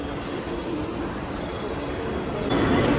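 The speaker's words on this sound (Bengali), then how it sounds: "তো চলে আসছে ট্রেন" A passenger train rolls in alongside a railway platform, a low rumbling drone that swells louder toward the end as it draws close.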